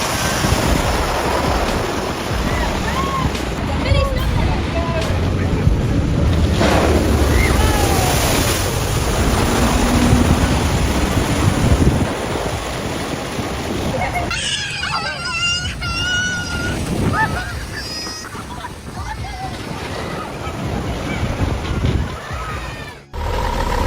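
A tractor churns through muddy water, its wheels throwing up a constant loud rush and splash. A voice talks over the sound partway through.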